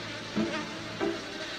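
A foraging worker honeybee buzzes in two short bursts, a brief drone repeated about half a second apart, close and fairly clear.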